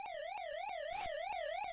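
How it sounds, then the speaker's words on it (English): Electronic police siren from the NES game Urban Champion, a chiptune wail sweeping up and down in steady repeating cycles, loud and continuous with no talk over it. "No, I can hear the sirens."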